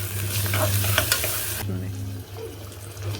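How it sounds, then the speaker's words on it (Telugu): Fish curry simmers and is stirred after coriander is added, giving a close, continuous sizzle with scraping spoon strokes against the pan that quiets partway through, then carries on more softly. "దీంట్లోనే కొత్తిమీర వేసిన తర్వాత ఒకసారి కలుపుకోవాలి"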